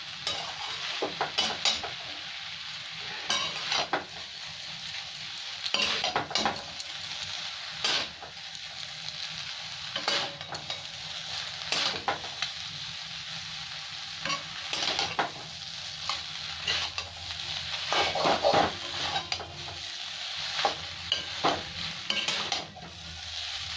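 Street-style chowmein with chopped green chilies is tossed and mixed in a hot pan, a utensil scraping and clattering in repeated strokes over a steady sizzle, close and with no talking.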